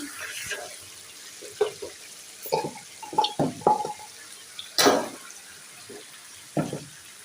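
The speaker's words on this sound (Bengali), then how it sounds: "আর এই যে নিহারি ধুইলাম আবার নিহারি ধুইলাম" Beef trotters for nihari are washed under a running tap: intermittent splashes and gushes of water come in short bursts with quiet gaps between, close and clattery, with no talking.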